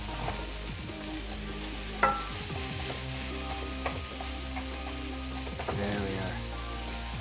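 Chicken for a Thai curry fries in a pan with a steady crackling sizzle, while a spoon scrapes and taps as it is stirred, giving a few sharper knocks over the constant frying hiss.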